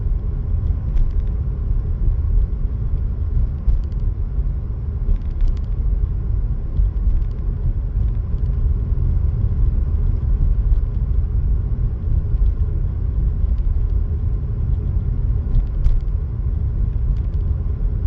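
Car cruising slowly down Main Street in Williams, Arizona, heard from inside as a steady low road and engine rumble throughout, with faint light clicks and rattles over it.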